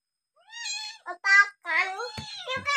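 A cat meows several times in quick succession, close and moderately loud, in an otherwise quiet indoor setting.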